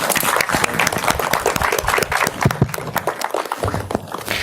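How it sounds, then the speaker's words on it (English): An audience at an academic workshop session applauds, a dense, loud burst of many hands clapping close by that runs throughout, with no talking over it. "Once again, a huge round of applause for"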